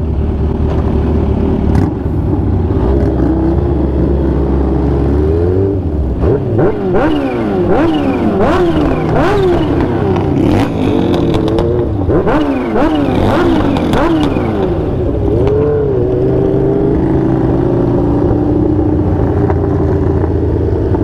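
A Kawasaki Ninja H2 motorcycle revs repeatedly on a downtown street, its engine note climbing and falling in a series of sharp throttle blips over a steady idle, loud and close throughout.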